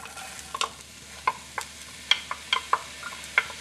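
Onion dropped into a pot with grapeseed or coconut oil for Italian white bean soup, giving a low steady sizzle broken by a series of sharp clicks and stirring knocks, close by with no talking.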